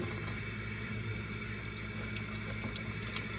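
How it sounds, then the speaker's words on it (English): Makeup brushes are rinsed under a running tap: a steady, even rush of water pours continuously at close range with no voices. "You definitely want to rinse that"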